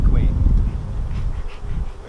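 Honey bees buzzing around an opened hive during requeening, a dense close low drone that holds steady for about two seconds with no talk.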